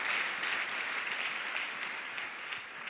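A church congregation applauding during a sermon, a thick, sustained patter of many hands clapping close and loud that fades only slightly toward the end.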